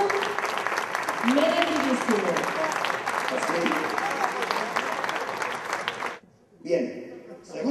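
Audience applause in a hall at a street magic contest prize ceremony, steady dense clapping for the third prize winner lasting about six seconds before someone speaks over the tail and fading claps.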